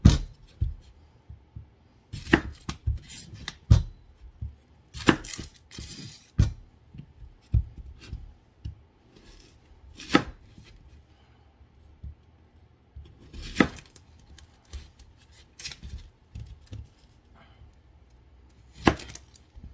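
Knife chopping a white onion on a cutting board, irregular sharp close taps in small clusters with quiet gaps between, heard alone.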